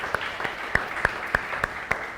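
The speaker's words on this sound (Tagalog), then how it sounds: "The best pong palakpak para kay Jesus." Scattered, sparse claps ring out one at a time at a slow, uneven pace, fairly faint, with a soft murmur of room noise behind them, during a church service.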